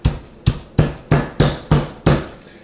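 A carpenter's hammer pounds chokecherries on the wooden seat of a chair, seven heavy, evenly spaced thuds roughly every third of a second, loud and close, with no talking.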